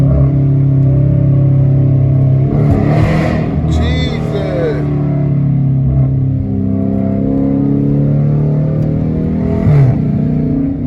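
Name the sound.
car engine revving while driving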